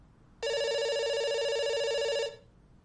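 A telephone rings once in a video game: a bright, electronic bell-like ring that holds steadily for about two seconds and then cuts off, clear and close against a quiet background.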